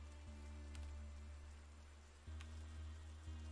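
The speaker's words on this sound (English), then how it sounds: "Also, why do you keep your dog outside? Come on, man. It's freaking raining." Rain falls in the video game Terror at Oakheart as a faint, steady hiss over a low hum, continuing without a break.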